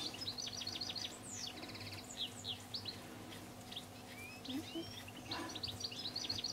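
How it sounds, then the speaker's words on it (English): Small birds chirp and tweet repeatedly in short bright bursts, fairly distant, over a steady low background hum. "Birds chirping away in the background,"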